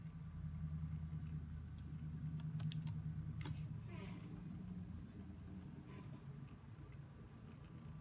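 Typing on the keyboard of a Dell Latitude 120L laptop with an Intel Pentium M, a run of faint, quick key clicks over a steady low hum, with a few sharper taps near the start and middle.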